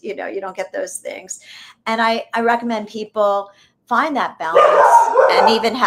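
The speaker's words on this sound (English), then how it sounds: "Sorry about the dogs." Dogs bark and yip indoors, partly under a woman's close, steady talk, with the loudest, busiest stretch of barking at the end.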